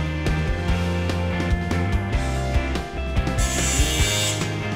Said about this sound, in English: Push the panel firmly against the framing and operate the gun to pull the rivet.